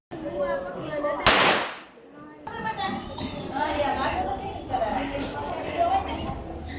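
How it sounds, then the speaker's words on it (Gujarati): Firecracker set off outdoors: a single loud, sharp bang with a hissing burst, followed by children and adults talking and playing nearby in the open air. "ફટાકડા ફોડવા માટે બહાર આવી ગયા છીએ"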